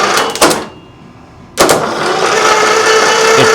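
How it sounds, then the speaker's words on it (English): Old engine cranked over by hot-wiring on a weak battery, a loud mechanical churn that cuts out for about a second, then resumes as a steady, close grinding run to the end. "I was just hot wiring the engine to see if it would even turn"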